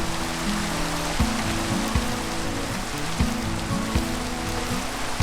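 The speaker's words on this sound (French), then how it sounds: "Oh non les gars, il pleut." Continuous hiss of rain in Minecraft, with a low droning hum and occasional soft thumps underneath; no one talks.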